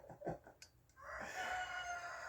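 A cockerel crows at a rural cabin, with a clucking lead-in followed by a sustained, fairly distant crow against outdoor background noise.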